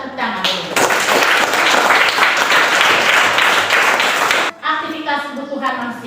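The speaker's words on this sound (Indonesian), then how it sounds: "Luar biasa, kita tepuk tangan dulu." Classroom applause as students clap together for their class during an Indonesian social studies lesson, a dense burst of many hands lasting several seconds between stretches of a teacher talking before and after.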